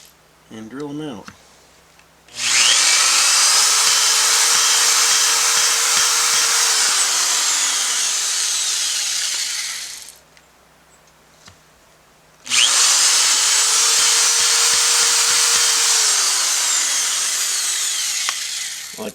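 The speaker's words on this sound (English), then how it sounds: "I like to run the drill back and forth a few times." A power drill bores stud holes into rubber tire tread, running in two long sustained bursts of high whining grind with a short pause between, close and loud, with faint low clicks at the start and no talking.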